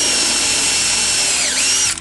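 A countersink drill bit bores into a deck board with a loud, continuous high whine for about two seconds, its pitch dipping briefly as the bit bites before easing off.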